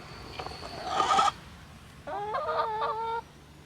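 Chickens cluck and squawk in two short bursts close by, with a brief quiet pause between them and no talking.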